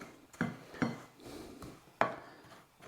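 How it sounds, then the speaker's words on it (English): A spoon stirs shredded coconut into an Anzac cookie mixture of flour, oats and sugar in a bowl. Quiet scraping strokes come at an uneven pace, with a few louder knocks against the bowl. "we add our coconut, and we use a spoon, and we mix it all through very well"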